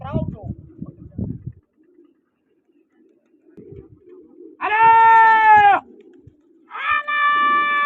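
Two loud, drawn-out bleating calls from pigeons follow a stretch of low murmuring and bird-like chatter; the calls sound close and stand alone.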